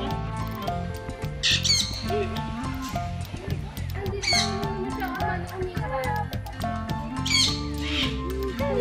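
A rainbow-coloured bird at a farm gives several loud, harsh squawks in repeated bursts. Children and adults talk throughout, close by.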